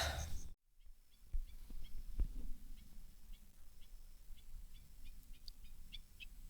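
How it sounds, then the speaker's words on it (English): A brief rustle, then a quiet night at a primitive campsite with faint, high bird chirps repeating at a distance over a low background hum. "I don't know if you can hear the bird chirping back here"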